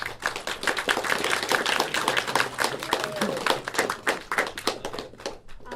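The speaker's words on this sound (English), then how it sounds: "So a round of applause for our teachers." Applause for teachers at a game art and design student demonstration, a modest group clapping with distinct, uneven hand claps, fairly close, with faint voices underneath.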